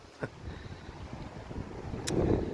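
Wind gusting across the microphone outdoors in a cemetery, a steady low rumble that swells toward the end, with a couple of faint brief knocks and no talk.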